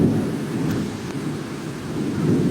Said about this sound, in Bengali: জোর তুফান বৃষ্টি ও